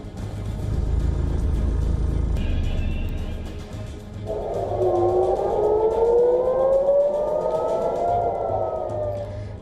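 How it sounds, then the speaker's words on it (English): Civil defense air raid sirens in Israel, warning of incoming missile strikes, wail loudly over a low rumble, one rising and falling tone swelling in partway through and holding steady to the end. "Sirens sounded across Tel Aviv and central Israel and Jerusalem several times overnight on Wednesday as a warning of incoming Iranian strikes"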